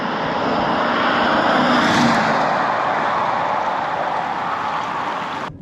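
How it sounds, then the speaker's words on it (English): A BMW 735i E38 V8 on 16-inch high-profile tyres climbs a road uphill, a broad, loud engine roar with tyre and wind noise that swells and then eases off before cutting out. "just starting to hear that V8 starting to pull away"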